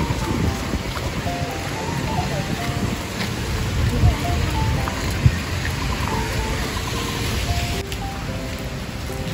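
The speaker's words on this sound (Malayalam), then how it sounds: "ഈ മഴ കുറയുന്ന ലക്ഷണമൊന്നും കാണുന്നില്ല." Heavy rain pours steadily outdoors near a local market at Vista Point, Singapore: a constant, dense hiss with a few louder drips or knocks, heard from under shelter with faint voices in the background.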